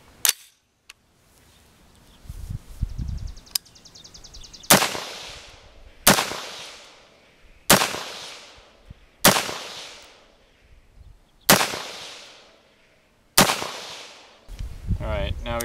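Six rifle shots with a standard compensator crack out loud and sharp in an open field, evenly spaced about a second and a half apart, each trailing a short decaying echo, with brief handling noise before the first.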